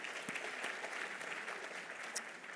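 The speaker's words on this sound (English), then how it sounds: "Please, round of applause." Audience applause fills a community celebration event, steady dense clapping from many hands sustained throughout with no voices over it.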